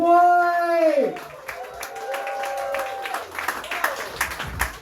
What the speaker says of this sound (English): Guys, give it up for Zack.